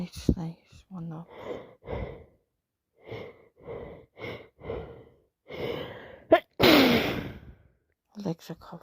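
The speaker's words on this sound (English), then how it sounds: "I need to sneeze." A person with a bad cold lets out a loud, breathy sneeze amid heavy sighs, gasps and sniffing breaths, close to the microphone.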